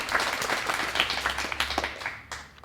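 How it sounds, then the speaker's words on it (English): Brief applause at a cum laude induction ceremony, a scattering of individual claps from a moderate crowd that thins out toward the end. "let's clap for her"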